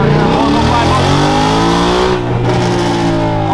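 A Whipple-supercharged Ford Mustang Coyote engine roars loudly as it accelerates hard, with a brief drop in pitch as it shifts gear before pulling again.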